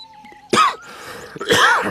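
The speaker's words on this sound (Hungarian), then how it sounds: "mindjárt köhögő rohamot kapok" A man coughs two short harsh bursts, close and loud, separated by a brief pause.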